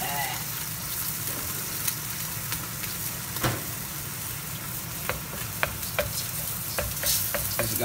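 Egg sizzles steadily in a hot wok for beef fried rice while a utensil stirs and scrapes with sharp clicks, close and continuous under occasional talk.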